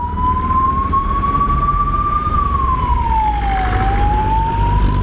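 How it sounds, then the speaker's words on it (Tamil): An ambulance siren wails steadily on a road, its pitch gliding up and then down as it passes, loud and continuous over road rumble without speech. "ஒரு நிமிஷம் ஆம்புலன்ஸ் போட்டோம்."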